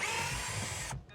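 A power drill whirs steadily for about a second while unscrewing an RV water heater, then cuts off abruptly, close and fairly loud with no talk.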